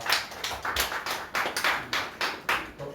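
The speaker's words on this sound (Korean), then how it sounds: "박수로 환영합니다." A church congregation clapping in welcome, a dense round of applause from many hands with rhythmic pulses about every third of a second, close and steady with no voices over it.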